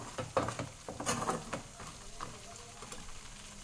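Chicken pickle cooks in oil, a soft sizzle under intermittent scraping and stirring clicks, quiet and close, with brief sharp utensil knocks early on.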